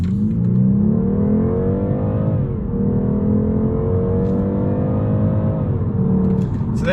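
A BMW G42 220i rear-wheel-drive with the B48 engine accelerating, heard from inside the cabin: a loud, steady engine drone climbing in pitch through the gears, with brief dips at shifts and no talk.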